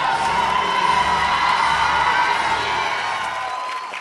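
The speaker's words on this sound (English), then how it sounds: "Let's give them applause." A graduation commencement audience at an academy cheers and whoops in a steady, loud crowd roar that stays dense throughout, with shouting voices over a broad wash of noise.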